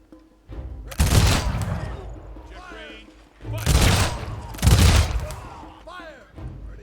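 Volleys of massed gunfire from musket or rifle units in the strategy game Humankind, two loud crackling bursts with booming thumps, separated by quieter battlefield noise, under occasional talk.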